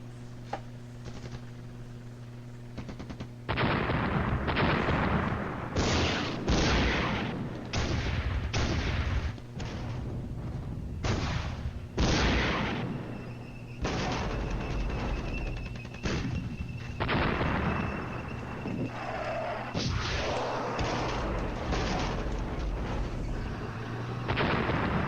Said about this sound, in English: The tank duel continues.